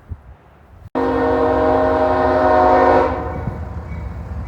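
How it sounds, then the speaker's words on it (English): A northbound train sounds a loud, sustained horn blast at the Main Street crossing, lasting about two seconds before easing off as the engine rumble continues beneath it. "film the train going across Main Street"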